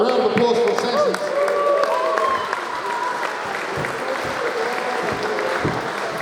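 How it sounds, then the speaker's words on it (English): Applause with scattered cheers and whoops from an awards-night crowd at a 24 Hours of Lemons endurance-racing event, sustained and fairly loud throughout, with some voices mixed into the noise. "All right, a round of applause for assassins."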